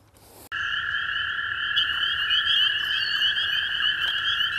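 A steady, loud chorus of frogs croaking close by, beginning abruptly after a brief quiet lead-in and continuing without pause, with sharp occasional calls layered over the drone.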